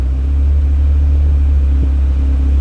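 A Fiat Uno Turbo engine, one that keeps overheating and may have a faulty oil pressure sensor, idles steadily up close with a deep, even rumble and a faint hum above it, running on its own for a few seconds.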